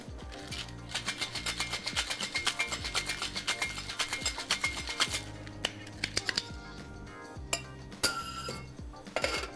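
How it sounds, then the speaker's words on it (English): A butterfly lemonade mixture is shaken hard in a cocktail shaker with ice to froth it, making rapid rhythmic rattling and clinking, close and loud, then slowing into a few scattered clinks. "Just gonna give that a quick shake to get everything incorporated"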